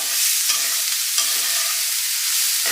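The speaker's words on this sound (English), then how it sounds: "Give it a stir." A pot of Zuppa Toscana soup is stirred, giving a close, continuous bubbling hiss with a few brief scraping swells as the spoon moves through the pot.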